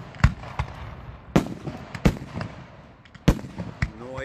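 Outdoor fireworks finale chains at a charity show going off as several sharp cracking booms a second or so apart, loud against a quiet background, with a faint whistle trailing at the end.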